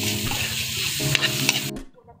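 Banana heart (puso ng saging) stirred and frying in a pan, a steady loud sizzle with scraping stirs and a couple of sharp utensil knocks, cutting off abruptly near the end.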